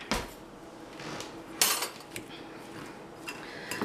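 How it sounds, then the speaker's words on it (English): A fork clinks and scrapes against a baked potato skin and dish while mashing the insides, a few sharp taps and scrapes with quiet gaps between. "So just mash your potatoes up a little bit."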